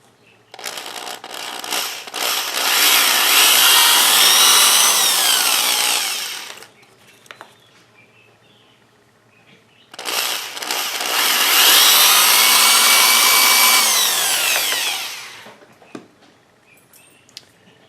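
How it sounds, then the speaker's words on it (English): Two long bursts of a power drill whining at high speed, drilling rivet holes through an oilfield clutch lining, each lasting several seconds, separated by a quiet pause with faint clicks. "I'm going to drill later once this is in place, so I can just drill straight through everything."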